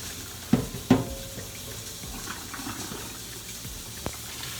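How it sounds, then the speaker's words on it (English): Hot pasta water pours from a pot into a kitchen sink, with a couple of sharp splashes at the start, then a softer, steady gushing and a final light clunk. "I'm just gonna drain the water from this."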